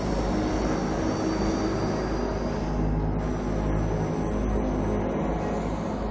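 An airplane taking off, shown in a survival thriller, a loud steady engine roar with a droning rumble and a high whine that holds constant throughout, no voices.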